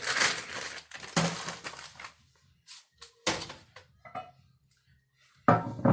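A skillet pounding a rock-hard clump of brown sugar in a home kitchen, several loud, sharp banging impacts in irregular bursts with short quiet gaps between them.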